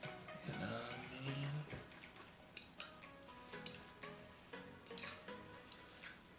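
Food stirred in a pan on the stove after a splash of water, with clinks and scrapes of a utensil against the pan in an irregular rhythm over a light sizzle, close and fairly quiet.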